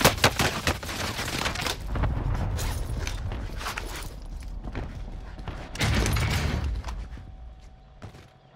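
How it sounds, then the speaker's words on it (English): Loud rapid gunfire bursts in Call of Duty Vanguard Warzone on Rebirth Island, clustered volleys with mechanical rattles between them, then fading to quieter ambience at the end. "Where's he shooting me from?"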